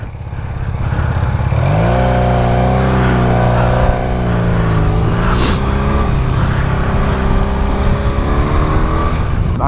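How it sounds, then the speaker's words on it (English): Motorcycle engine heard while riding in traffic, a loud, close, steady drone that rises in pitch as it accelerates and then holds, continuous with no talk. "I don't know if this is a quiet or a loud bike"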